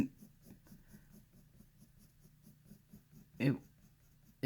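Prismacolor colored pencil shading on paper, a soft rhythmic scratching of quick short strokes, close and fairly quiet, with one louder scrape near the end.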